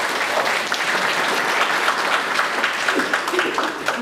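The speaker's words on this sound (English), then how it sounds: "Another round of applause for her." An audience at a college seminar in Saratoga claps for a speaker, a steady burst of applause that is dense and sustained for several seconds from a room full of people.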